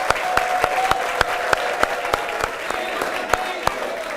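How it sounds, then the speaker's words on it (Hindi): Audience applause welcoming guests Sourav Ganguly and Virender Sehwag at a news channel studio event, brisk steady clapping with regular loud percussive beats and a faint tonal hum running through. "जोरदार तालियां होनी चाहिए।"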